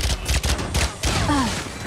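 Rapid gunfire from a Valorant match, with dense bursts of shots and thumps in the first second followed by a brief pause and more fire, loud and close over the game's ambient noise.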